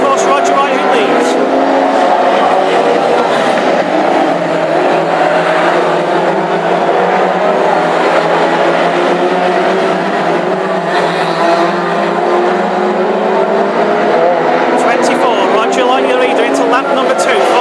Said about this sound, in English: The gaggle of cars down the home straight